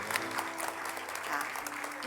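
Steady applause from a church congregation at a prayer meeting, a dense patter of clapping that stays fairly even throughout with faint background tones.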